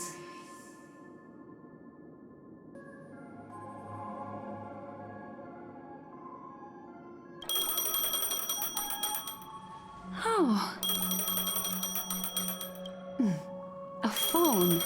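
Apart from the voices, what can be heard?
phone ringing in Honkai Star Rail video game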